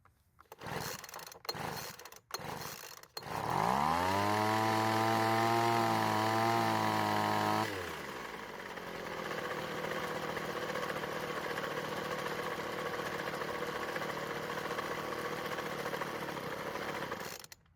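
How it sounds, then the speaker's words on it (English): A leaf blower with low compression is pull-started, its choke held by pliers: several sharp cord yanks, then the two-stroke engine catches, revs loud and high, and settles into a steady, rough idle. "So it took 4 pulls to get it started, which isn't bad considering the low compression number."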